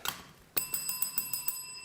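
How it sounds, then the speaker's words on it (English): Small hand bell rung during a live craft show, a quick series of bright, ringing strikes in a steady rhythm, fairly faint and with no talk over it. "Ring the bell."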